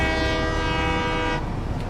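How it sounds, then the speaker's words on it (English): A train in the video game Satisfactory rolls past loud and close, its horn-like tonal blare sustained for over a second before cutting off, leaving a rumbling rail noise beneath. "Oh, the other train is right behind us."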